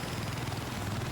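A helicopter flies in a Battlefield-style multiplayer shooter, its rotor making a steady, rapid thumping whir that fills the short moment at a constant, moderate loudness with no talk.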